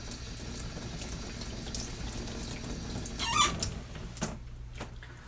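Tap water runs quietly and steadily while plastic model car body parts from a 1966 Chevy Suburban kit are wet sanded with 600-grit paper, with a few brief squeaks and clinks over the flow.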